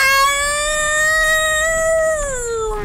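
A cat meows in the video game Split Fiction, one long drawn-out plaintive meow that holds steady and then bends downward at the end, loud and close, with no talk over it.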